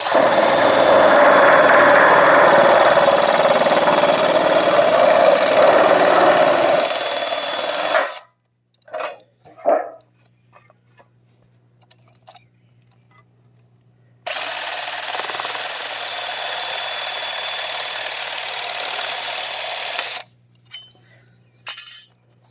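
A hand saw cuts through driftwood for a small boat's sail in two long stretches of steady, loud rasping strokes, separated by a quiet pause with a few light knocks and taps.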